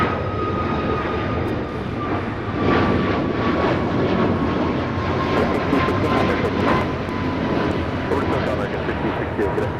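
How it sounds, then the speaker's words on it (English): An American Airlines Boeing 737 MAX 8 jet climbs away on takeoff at a major airport, a loud sustained engine roar with a thin steady whine running through it, as voices chat in the background. "That is American Airlines 1668 taking off to Phoenix on the MAX 8."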